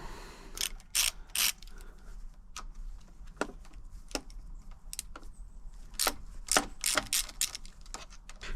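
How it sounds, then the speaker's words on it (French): Stem lock bolts on a Sur-Ron Light Bee electric dirt bike being loosened with a ratchet, giving bursts of close, sharp clicking and metallic ratcheting in several separate runs with quiet gaps between. "Je desserre le verrouillage de potence."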